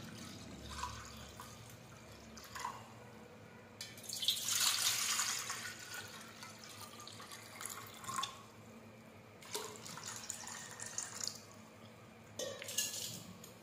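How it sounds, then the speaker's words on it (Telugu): Water is poured into bowls, heard as a few loud splashing bursts with clinking of dishes in between and quieter dripping and handling noises across the stretch, with no talking. "బౌల్స్లో వాటర్ పోసుకొని"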